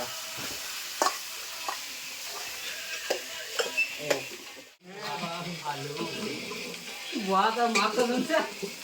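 Meat frying in a pan while being stirred, a steady sizzle broken by scraping strokes, with bursts of talk over it partway through.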